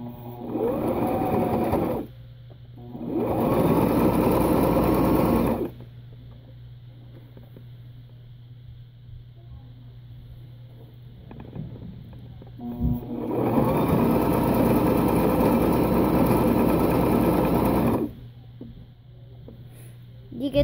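A sewing machine stitches a straight seam on a shirt in two long runs and one shorter run, loud and close, each a steady whirring drone separated by near silence with faint background hum.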